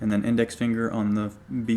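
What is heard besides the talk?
No everyday noises stand out.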